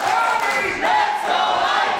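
A wrestling crowd at the GWF Light Heavyweight World Cup 2022 roars and chants, mostly in support of Aytac, with loud, sustained cheering that swells partway through.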